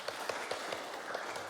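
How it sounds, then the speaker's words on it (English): Audience applause closing a lecture on Russian philosophy and the Orthodox Church, a short, even patter of many hands clapping at moderate volume with no voices over it. "Applause."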